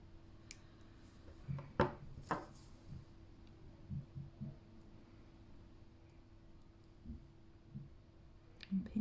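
Small cutters snipping excess wire while making a malachite bracelet, giving a few sharp close clicks and snips spaced apart in a quiet room, with soft handling noises between them.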